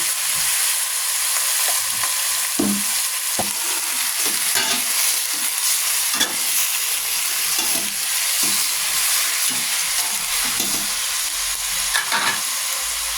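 Pork sizzles in a pot while it is stirred for pork nilaga, a continuous loud frying hiss with scattered scrapes and knocks of the spoon against the pot, and no talking.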